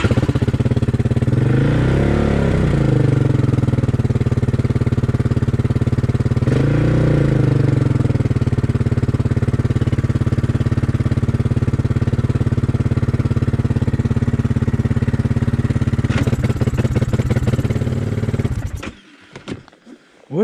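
A Yamaha Kodiak ATV with a throttle fault runs at a high, stuck idle: a loud, close, steady engine drone with two brief swelling revs, a rattling stretch near the end, then the engine cuts off abruptly.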